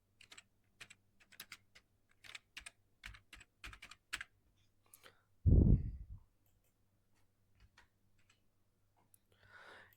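Typing on a computer keyboard, with scattered keystrokes and short bursts of clicks close up, a heavier thump partway through, then sparse taps before a last faint flurry.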